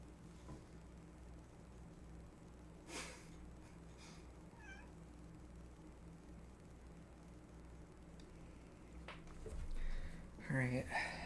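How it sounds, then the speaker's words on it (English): A pet cat meows a few times near the end, short rising calls that sit over a steady background hum, with one louder meow close to the microphone. "There goes my cat meowing, wanting her Christmas attention."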